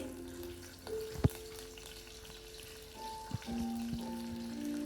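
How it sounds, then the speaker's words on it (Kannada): Cumin and mustard seeds crackle and sizzle in hot oil in a home kitchen pan, with scattered sharp pops over a steady low frying hiss, close and fairly quiet, no talking. "ಸ್ವಲ್ಪ ಜೀರಿಗೆ ಸಾಸಿವೆ ಹಾಕ್ಕೊಂಡು ಅದು ಚಟಪಟ ಅಂತ ಸಿಡಿದಾದ್ಮೇಲೆ ಕರಿಬೇವು ಹಾಕ್ಕೊಳ್ರಿ"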